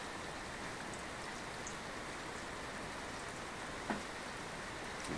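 Steady rain falls outside a small 2x2 garden bathhouse at a dacha, a continuous even hiss of drops on surfaces with one brief knock partway through.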